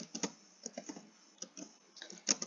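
Keys clatter in a quick, uneven run as code is typed on a computer keyboard, the clicks close and fairly soft with short pauses between bursts and no talking.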